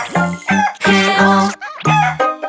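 Sung chicken clucks imitated by a voice in a Spanish-language children's song, loud repeated bursts in a steady rhythm.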